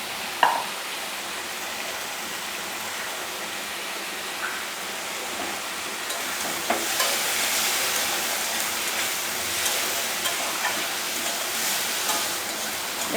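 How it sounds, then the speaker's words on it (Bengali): Papaya and potato pieces fry in a pan for a lentil dish, giving a steady, even broadband sizzle that runs throughout, with a few faint clicks and no voices. "একটু লাল লাল করে আমি ভাজা ভাজা করে নেব।"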